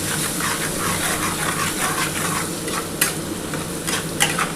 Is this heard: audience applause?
no